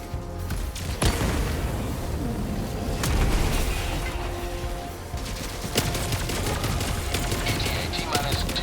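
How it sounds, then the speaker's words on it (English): A Helldivers 2 firefight, with repeated sharp gunshots and bursts of automatic fire, a booming grenade blast in the middle, and voices talking over the battle. "Throwing grenade!"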